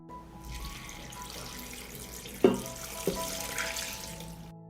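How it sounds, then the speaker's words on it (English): A liter of water runs into a soup pot, a steady, moderately loud stream of tap-like flow with a couple of sharp splashing knocks partway through, no voices present. "I add a liter of water."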